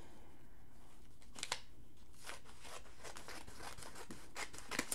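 Quiet, irregular snips of scissors cutting through newspaper, with soft paper rustling between the cuts.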